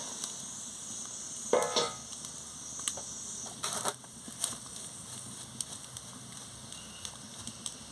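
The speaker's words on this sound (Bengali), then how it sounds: "দিয়ে ভালো করে নাড়িয়ে নিচ্ছি" Chalta raita being stirred in a karai on the stove: a soft sizzle with a few scraping stirs and clinks, close and quiet, with no voices.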